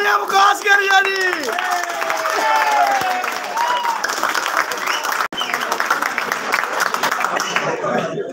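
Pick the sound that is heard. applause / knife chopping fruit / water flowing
applause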